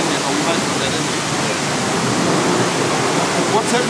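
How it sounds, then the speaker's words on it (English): A car wash pit pump runs around the clock to aerate the wash water, giving a loud, steady rushing hiss with no breaks. "What's happening here is that the pump's running 24 hours a day, so that the water stays aerated"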